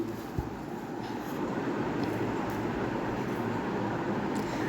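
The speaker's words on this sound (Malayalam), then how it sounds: "ഒരു ട്രെയിൻ ഇങ്ങനെ വരുന്ന വീഡിയോ എടുത്ത്" A train rumbles steadily and gradually grows louder, with a dense low roar and faint metallic rattles of wheels on rails.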